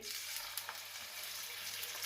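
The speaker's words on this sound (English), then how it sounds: "let's slide these in a frying pan. Well, as usual, there is our oil." Chicken fries in hot oil with a steady, crackling sizzle and occasional soft pops, close and continuous, with no talking.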